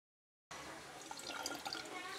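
After a brief silence, water pours into a 1-litre garden sprayer from Garud Pipes, a soft, steady trickling and splashing fill that stays faint and close.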